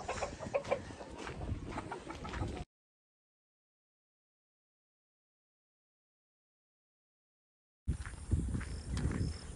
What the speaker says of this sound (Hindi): मोरोग आखिर मुर्गी के पीछे।